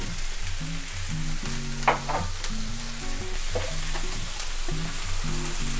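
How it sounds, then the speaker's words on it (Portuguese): Tomato and bell pepper fry in a pan for a savoury rib pie filling, a steady soft sizzle running beneath background music. "E frite tudo até o tomate e o pimentão ficarem moles."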